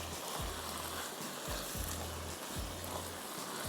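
Chicken masala sautéing in a pan for Schezwan chicken gives a steady, close sizzle and fry, with soft low thumps of stirring recurring every second or so.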